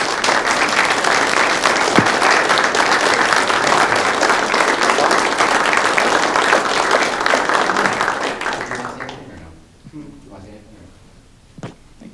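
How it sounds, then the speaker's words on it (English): Audience at a fire department promotional and swearing-in ceremony applauds new members with sustained dense clapping for about nine seconds, then it fades into scattered claps and quiet room noise. "They deserve a big round of applause, and welcome to the team."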